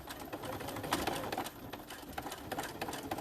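Close and quiet, a sewing machine stitches a small zipper pouch with a soft continuous rattling hum and light irregular ticks.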